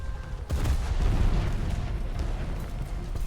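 A tank cannon fires once in War Thunder, a sudden loud blast that decays into a long, heavy rumble of battlefield noise.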